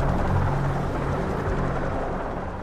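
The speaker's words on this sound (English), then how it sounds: "The helicopters, which had been moving equipment forward, now flocked to help rescue survivors." Helicopters moving equipment and flying rescue sorties at Fitzroy, heard as a continuous low rotor rumble with a throbbing beat, fairly loud and steady.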